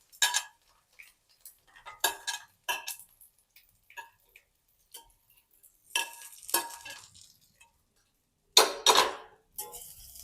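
Steamed muthiya dumplings dropped into a pan with a sesame-seed and curry-leaf tempering: scattered clattering knocks and utensil taps in separate bursts, with a faint sizzle between them and quiet gaps.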